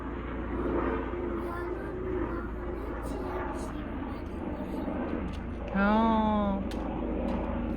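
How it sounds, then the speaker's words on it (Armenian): A steady, low airplane drone hums in the background for the whole stretch, with faint voices and a brief whistling tone. "Ինքնաթիռն էլ անցնում այս ժամանակ ձեն է հանում։"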